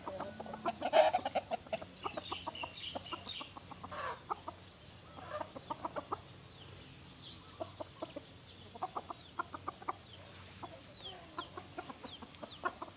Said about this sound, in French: c'est les coqs.